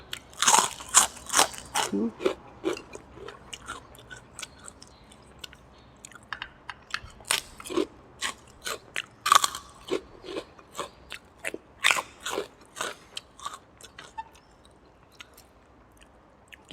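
Close crunching and chewing of rice noodles with pork, meatballs, plenty of crispy fried garlic and crisp potato chips, irregular loud bites and crackly chews spread through a quiet background.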